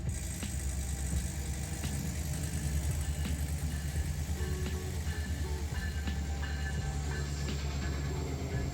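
A train rumbles past nearby with a low, steady engine drone and scattered metallic clicks, continuous and fairly loud throughout.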